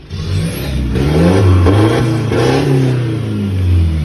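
A remapped 2017 1.9L car engine with the stock engine and a six-speed gearbox revs up loudly and close, its deep drone rising and falling through a couple of throttle blips before settling.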